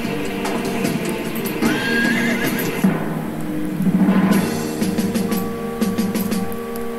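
A horse in a cartoonish fighting video game neighs and whinnies repeatedly over game music and effects, loud and near, with no talk.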